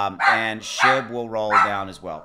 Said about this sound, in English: There's the dogs.